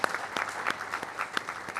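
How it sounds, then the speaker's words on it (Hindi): Audience applause welcoming a guest at a Hindi stage event, a brief steady patter of many hands clapping at moderate volume. "एक बार सब तालियां बजा के स्वागत करें"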